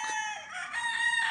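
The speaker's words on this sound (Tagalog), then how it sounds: "Daming manok." Chickens and roosters crow close by in a short burst, overlapping shrill calls that fill the whole moment.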